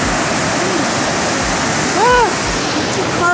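A loud, close waterfall roars as a constant broadband rush in farmland, with a short voice briefly heard over the falling water.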